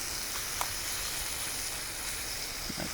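Venison browning in a hot pan on the stove during preparation of a swamp cabbage stew, giving a steady, close sizzle and hiss with a few faint clicks and no voices.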